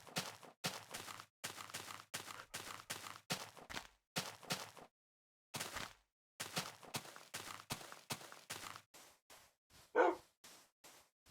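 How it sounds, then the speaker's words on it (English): A dog barks and yips in a quick run of short, loud bursts, close by, with brief pauses between the barks. "Woof."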